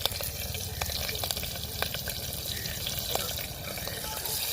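Onion sizzling as it drops into a pan of frying garlic and chillies, a steady crackle and hiss with occasional stirring clicks, close and moderately loud throughout.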